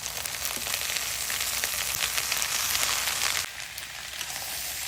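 A spiced mixture with salt, chilli flakes, chopped green chillies and black pepper fries lightly in a pan, giving a steady close sizzle that softens a little near the end, with no voices.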